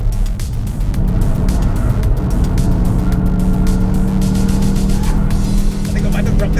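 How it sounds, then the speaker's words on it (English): A hatchback's engine roars steadily and loudly on a race track as the driver hits a scramble turbo boost to accelerate past a Nismo GTR, with faint tire noise in the sustained drone. "See him press the Scramble turbo boost switch, easily passes the Nismo GTR."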